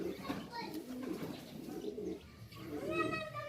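Soft, low pigeon coos repeat under a voice and faint background chatter, rather quiet and close.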